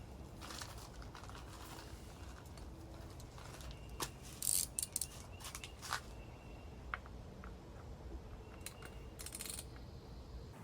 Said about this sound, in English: all you have to do is unscrew this little bolt right there